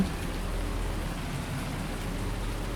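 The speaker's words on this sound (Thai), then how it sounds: "ฝนก็ตกนะผม" Steady rain falls in Farming Simulator 19, a dense, even hiss of downpour that holds at constant loudness throughout with no other sounds standing out.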